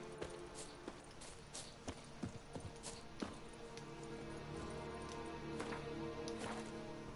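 Hoofbeats of Roach, the horse in The Witcher 3: Wild Hunt, in a faint, steady clip-clop of walking steps that gives way to a softer continuous gait, with no talk over it.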